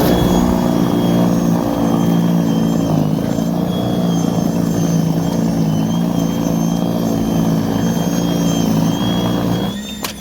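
Greenworks Pro 60v 22-inch battery snowblower clearing about four inches of snow, a steady loud whirring motor drone running continuously up close, easing off at the very end.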